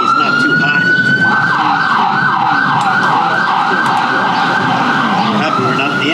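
A loud wailing ambulance siren cycles up and down continuously, close by, over the rumble of road traffic at a Fourth of July celebration.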